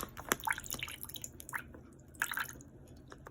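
Water drips from a homemade water-bottle fountain fitted with a straw, a few quiet, close, irregular drips and small splashes.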